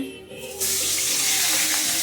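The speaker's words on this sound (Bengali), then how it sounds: "দেখো কি সুন্দর মাছ ভাজছে, মাছটার তেল।" Fish pieces fry in hot oil in a home kitchen: after a quieter start, a loud, bright sizzle suddenly swells and holds steady close by.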